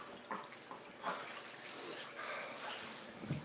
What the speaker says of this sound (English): I gotta go turn the water off in the bathtub because I'm multitasking.